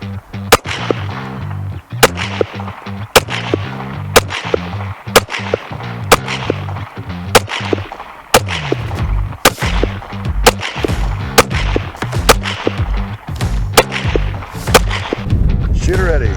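Sharp, loud pistol shots from a Walther PDP Pro E ring out at a steady pace on an outdoor range, about sixteen evenly spaced reports, each cracking sharply and then echoing briefly.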